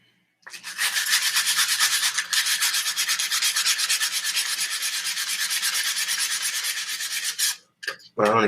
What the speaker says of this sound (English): I'm going to keep sanding on it